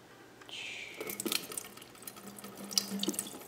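Water running from a tap onto a hand coated in a water-repellent spray, a soft steady splashing trickle with a few faint drips and clinks, quiet and close, with no speech.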